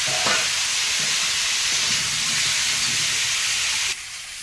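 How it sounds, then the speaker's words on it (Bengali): Chicken pieces frying in a pan on a gas stove give off a steady, loud broadband sizzle that holds evenly and then drops to a quieter hiss near the end, with no talking. "এখন মাংস রান্না ভাজবো"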